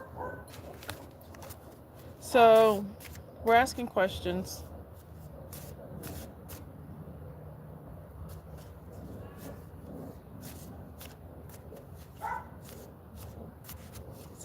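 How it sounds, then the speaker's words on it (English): A dog outside barking to get in, a couple of distant yelping barks with a second short burst soon after, heard faintly behind a person talking nearby. "This dog barking to get in."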